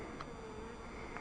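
Honeybees leaving the hive entrance at an apiary in Vigneux protected by anti-hornet tents, a faint steady buzzing hum of wings with no talk.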